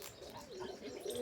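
Hungry pigeons cooing as they gather to feed, a steady soft cooing with low warbling tones running throughout.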